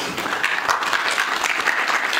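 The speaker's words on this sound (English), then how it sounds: "a round of applause" Audience at a live masterclass giving a round of applause, a lively burst of many hands clapping with uneven swells, close and fairly loud, no talk over it.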